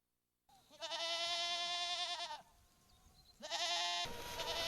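Goats bleat in long, loud, wavering calls at a goat shed by a smelting works. Two drawn-out cries sound close with a short pause between them, over a faint background murmur.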